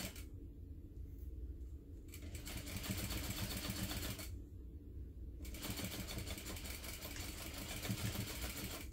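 A sewing machine stitches through thick layers of a fabric envelope wallet at the ID window slots, running in a steady, fairly quiet mechanical whir that pauses briefly twice before continuing.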